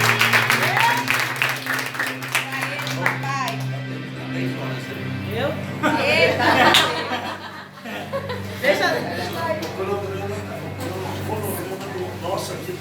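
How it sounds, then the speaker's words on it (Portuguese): Assembly of God church congregation clapping loudly during a worship seminar, bursts of applause mixed with laughter, shouts and chattering voices, with a sustained musical tone underneath. "aplauda Jesus bem forte"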